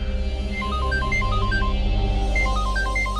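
A mobile phone plays a looping melodic ringtone for an incoming call at night, steady and fairly loud throughout, over a low background hum.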